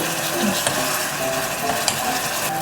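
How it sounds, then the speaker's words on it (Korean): Heated cream poured into melting, browning caramel for an apple pie, giving a steady close sizzle and bubbling with a few faint stirring and pan clinks throughout, no talk. "자, 이제 데운 생크림 넣어요."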